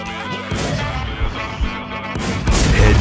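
Gunfire in the PvP video game Warz, a string of heavy booming shots and impacts with bursts near 0.5, 1.6 and 2.5 seconds, loud and close with no talk.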